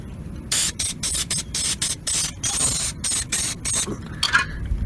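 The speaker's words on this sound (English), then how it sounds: "You just put a little spray on there." Repeated short hissing bursts of an aerosol spray can onto rusted metal, close and loud, in an uneven rhythm of quick sprays.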